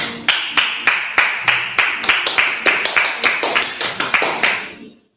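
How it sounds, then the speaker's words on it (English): Hand clapping in a classroom: about seventeen sharp, evenly spaced claps at a steady rhythm, close and loud, stopping cleanly after roughly five seconds with no talk over them. "I'll clap it up for you."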